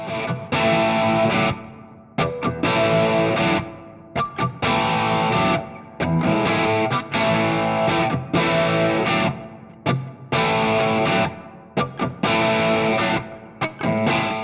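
A Squier Classic Vibe '60s Stratocaster, a limited-edition HSS model, is played through heavy distortion with effects, loud sustained chords in repeated bursts broken by short pauses, with no voices.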